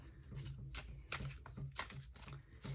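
A deck of tarot-style reading cards is shuffled by hand, producing quiet, repeated riffling and slapping bursts in an uneven rhythm, close and soft with no talk.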